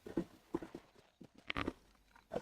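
Horse in the video game Red Dead Redemption: a few soft, scattered hoof clops at a quiet, uneven walking pace, faint and fairly close, with small bumps and gaps between them.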